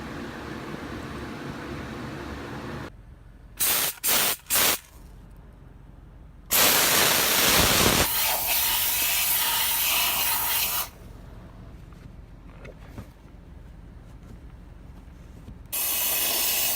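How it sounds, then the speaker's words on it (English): A steam cleaner hisses in sustained bursts while cleaning a car's cup holders, steady spraying with a few short pulses and pauses, close and fairly loud with no talking. "I'm gonna go ahead and take the steam cleaner and clean all the cup holders and all of the door jambs"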